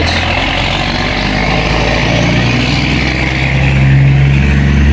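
Heavy onion-harvest trucks pass in the background during Idaho harvest season, a steady loud low engine drone and road rumble that swells slightly toward the end, with no talking.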